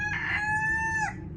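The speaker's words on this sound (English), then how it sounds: "Cockerels actually cock-a-doodle-doo anytime they like." A cockerel on a farm in the Algarve, Portugal, crows once, near and loud, a full drawn-out cock-a-doodle-doo with a clear rising then sustained tone, standing alone with no talk.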